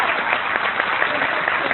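An audience applauds at a talk in a university theatre, a dense, steady patter of many hands clapping with sharp individual claps throughout, fairly close and sustained for the whole stretch.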